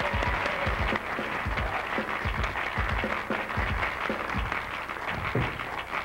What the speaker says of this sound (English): Give a round of applause as he does it.